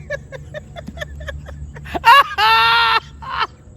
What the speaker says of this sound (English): There's a scream.